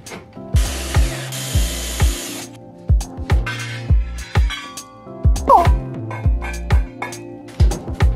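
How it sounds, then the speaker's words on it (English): Power tool cutting plywood for a DIY modular synthesizer case, heard as a burst of broadband saw noise followed by repeated sharp knocks and wood handling thuds, close and fairly loud. "And then I take some plywood and cut the plywood."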